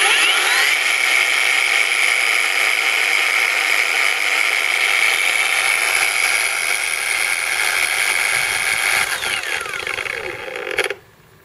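A Kobalt 6-inch variable speed cordless random orbital polisher runs with a steady, loud mechanical whir, holding constant for about ten seconds before spinning down abruptly at the end.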